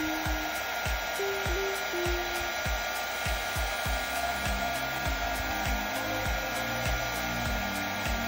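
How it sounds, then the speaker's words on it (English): A heat gun blowing over layered resin petals for a 3D flower, a steady close fan whir and rushing airflow with faint ticks and clicks beneath, running continuously with no talking. "And here I go in with my heat gun"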